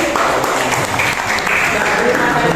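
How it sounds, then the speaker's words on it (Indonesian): Classroom applause from students fills the room, a dense, steady wash of clapping heard up close and loud throughout, with some voices mixed in. "Beri tepuk tangan untuk kita semuanya."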